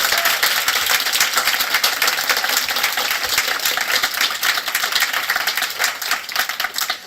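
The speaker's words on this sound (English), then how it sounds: "Give yourselves a massive round of applause." A large audience at an awards ceremony breaks into loud, dense applause, many hands clapping continuously in a thick wash of sound for about seven seconds, close and full.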